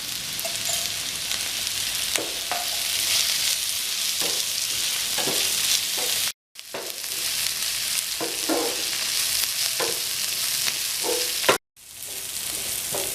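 Onions sauté in a pan for prawn curry, a steady crackling sizzle close up with repeated scraping strokes of a spoon, cut off by two brief silent gaps.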